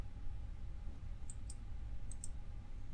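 Four short computer mouse clicks, in two quick pairs, while installing Ubuntu in VirtualBox, sharp and close over a steady low hum with no talk.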